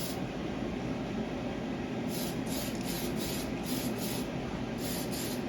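Spray paint, blue, dusted onto bare plastic, a steady close hiss with several short, rhythmic bursts layered over it near the end.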